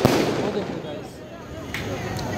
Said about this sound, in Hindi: बहुत ज़्यादा आतिशबाजी हो रही है।